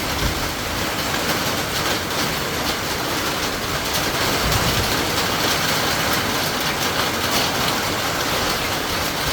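Heavy rain and strong wind on a farm make a dense, steady loud hiss and roar throughout, with no voices heard.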